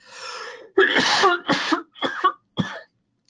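Several harsh, explosive coughs in quick succession, close and loud, with short pauses between them.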